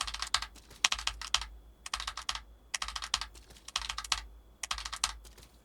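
Game controller buttons clicked in rapid bursts to input a wave cancel, five quick clusters of sharp taps separated by short pauses, close and fairly loud with no voices.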